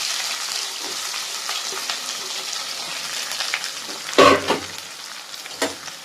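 Fennel seeds and plenty of small shallots sauté in hot oil for a pepper chicken, a continuous close sizzle with light stirring scrapes and a couple of sharper clatters of the spoon against the pan.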